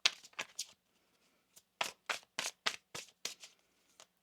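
A tarot deck is shuffled up close in crisp riffling bursts, a few quick flicks, then a pause, then a longer run of rapid card slaps, with no talking.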